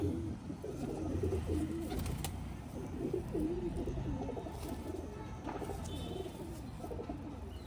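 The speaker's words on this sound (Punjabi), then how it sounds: "ਇਹ ਹੈਗੀਆਂ ਕਬੂਤਰੀਆਂ" Female pigeons coo in a steady, overlapping chorus of low, rolling calls that continues throughout, close and moderately loud, with no voices over them.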